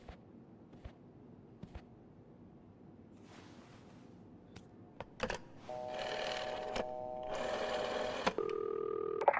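A telephone ringing in a mystery video game, electronic tonal rings arriving in a few bursts after quiet clicks and faint room sounds.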